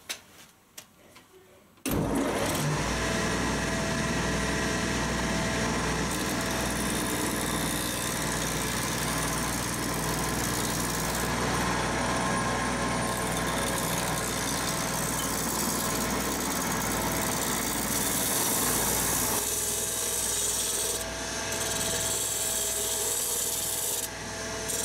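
A wood lathe fitted with a Record Power SC3 chuck spins up and runs steadily, a constant low motor drone beneath rough scraping and rasping of a tool on the turning wood.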